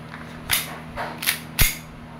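A WE 1911 Classic airsoft gas blowback pistol fires three sharp, close cracks about half a second apart, each a short snapping report with a quick mechanical clack, over a low background hum.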